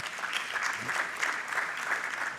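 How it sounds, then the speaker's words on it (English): Short burst of steady audience clapping at a riverway summit, many hands close and even for the whole moment, no voices over it. "Something to applaud."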